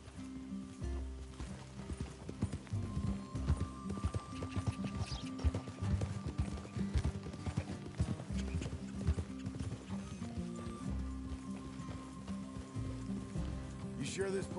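Horse hooves clip-clopping in Red Dead Redemption 2, an uneven run of close hoofbeats with an occasional whinny, mixed with game sounds and people talking over them.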